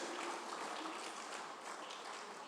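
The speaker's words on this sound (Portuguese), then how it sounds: "As palmas para o Senhor" A church congregation claps for the Lord in a dense, steady wash of applause that stays loud and even from start to finish.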